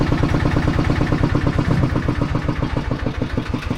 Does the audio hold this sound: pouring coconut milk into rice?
no